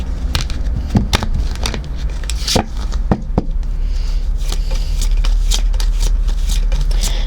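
Tarot cards being shuffled by hand, a run of crisp riffling clicks and sharp snaps with a steady soft shuffle underneath, close and fairly loud, no talking.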